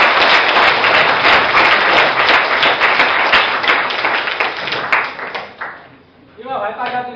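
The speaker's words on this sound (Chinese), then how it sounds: "我们大家以热烈的掌声感谢蓝教授的" An audience in a lecture hall applauds Professor Lan with dense, sustained clapping that stays loud for several seconds, then thins and fades out near the end.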